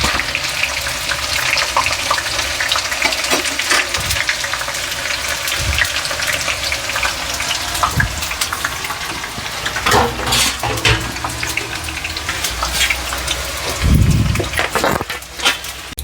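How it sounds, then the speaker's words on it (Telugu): Murukulu made from black gram batter deep-frying in hot oil at home, a continuous dense bubbling sizzle with occasional louder pops and knocks. "నేను ఇంట్లోనే డీప్ ఫ్రై చేస్తున్నాను"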